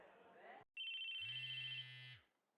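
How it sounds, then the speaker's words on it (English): A cell phone ringing inside the visual novel game Chaos;Head Noah, a bright electronic tone with a low buzzing vibration beneath it, loud and close, following a brief stretch of talk. "electronic sound suddenly rang throughout the classroom. I felt a faint vibration near my chest. It's my cell phone."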